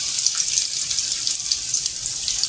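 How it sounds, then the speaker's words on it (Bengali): Noodle pakora batter slipped gently into hot oil in a wok, a loud, steady hiss of frying that stays constant throughout with no talking. "দেখো আমি এভাবে আস্তে আস্তে তেলের মধ্যে ছেড়ে দিব।"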